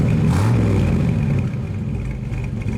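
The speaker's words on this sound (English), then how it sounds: "Dual exhaust sounds great." A 1971 Chevrolet Monte Carlo with dual exhaust rumbles loud and close, with a brief rev near the start before it settles into a deep, steady idle.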